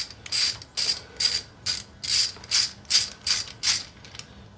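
A ratchet wrench loosening fuel pump bolts on an engine clicks in about nine short, evenly spaced bursts of rapid metallic ratcheting, close and clear with no talk.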